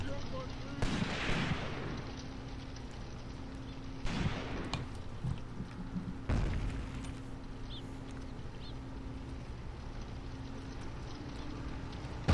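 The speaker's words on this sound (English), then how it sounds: "That looks like an airburst round." Airburst artillery rounds detonating in Graviteam Tactics: Mius-Front, three separate sharp booms spaced a few seconds apart, each followed by a rumbling decay over a low steady background hum, with a voice talking.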